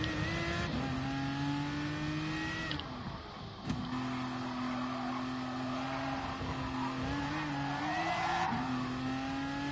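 Race car engine from Gran Turismo Sport during a qualifying lap, a steady loud drone with gear changes that dip and climb again, rising near the end, with no voices.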